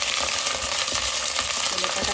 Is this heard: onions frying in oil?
yes